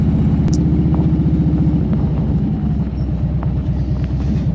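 A motorcycle idles and rolls slowly into a driveway, its engine a close, steady throbbing rumble with faint background sounds and no talking.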